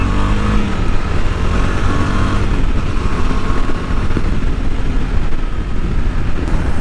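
A KTM Adventure 390 motorcycle rides over stones and gravel, its engine drone and road rumble loud and continuous throughout, with no speech.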